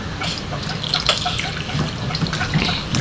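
Tap water runs and splashes while food is washed in a sink, a close, steady stream with small drips and clatters mixed in, with no voices.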